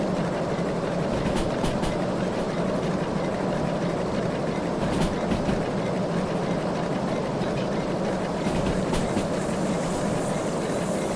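A steam locomotive runs hard in the Derail Valley simulator, hauling a long train with a steady mechanical roar and faint rhythmic clatter, loud and continuous with no talking.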